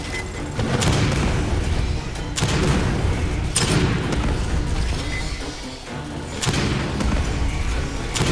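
Grenade blasts and heavy gunfire in the video game Aliens: Fireteam Elite 2, several loud booming bursts with thumping impacts rolling one after another over a dense, continuous din.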